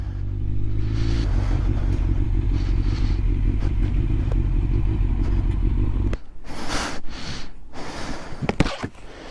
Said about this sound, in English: New bike I was telling you about.